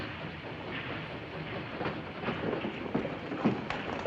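A train rumbles along in a 1940 film, a steady mid-level roll of wheels on track with soft, irregular clacks and knocks rising slightly toward the end.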